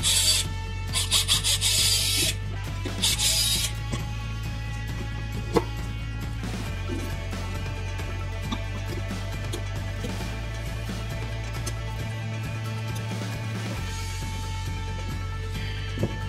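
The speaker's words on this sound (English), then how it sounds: "we're gonna try drilling it" A drill works at a rivet in an Indian Scout motorcycle seat, a steady close grinding rasp that runs continuously for many seconds with a few louder bursts early on.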